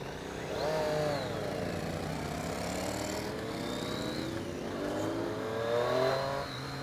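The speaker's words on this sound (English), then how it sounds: "obviously you've got the triple sound, which hearing it in person," Triumph Street Triple 765 RS three-cylinder motorcycle revving nearby, its exhaust note rising and falling through several throttle blips in a smooth, snarling wail.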